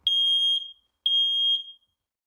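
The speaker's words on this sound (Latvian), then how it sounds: "mājokļa aprīkošana ar dūmu detektoru, kas brīdina cilvēks par izcēlušos ugunsnelaimi" A residential smoke detector alarm sounds two loud, piercing high beeps, each lasting about half a second with a brief pause between them, heard alone with no talk.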